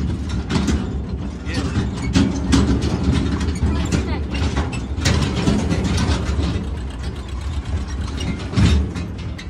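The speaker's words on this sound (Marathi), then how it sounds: "मस्त फळ्यामध्ये ट्रॅक्टर राईड" Rattling, clanking mechanical noise from a tractor riding through the fields, uneven and bumpy with repeated metallic knocks and a low engine rumble underneath, fairly close and continuous.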